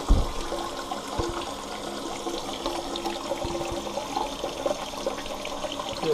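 Water runs steadily from a Fluidmaster 400A toilet fill valve, a continuous close hiss and trickle lasting throughout with no talking.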